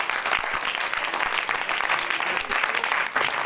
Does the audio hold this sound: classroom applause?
yes